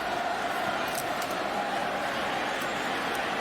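A football stadium crowd at a 2019 Florida vs. Miami college game lets out a dense, steady roar of voices, loud and continuous, with no single voice standing out.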